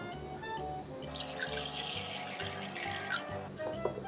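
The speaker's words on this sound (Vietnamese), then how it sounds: "Bây giờ mình sẽ đem rửa sạch lại." Peeled potatoes rinsed under a running tap, a steady stream of water splashing and gurgling in a bowl, close and continuous with shifting splashes.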